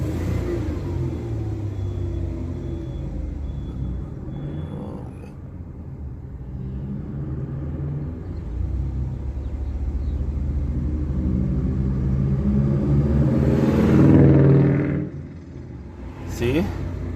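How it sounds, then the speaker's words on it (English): Ford Escape engine idling and then revving as the accelerator is pressed, a steady low rumble that swells to a louder peak before dropping back, heard close up. "Okay, let's gas the car."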